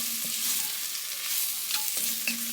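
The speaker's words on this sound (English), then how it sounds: "So let's actually mix the flour first." Flour is stirred into a lobster bisque pot, a soft scraping and swishing with a faint sizzle underneath, close and continuous without any voices.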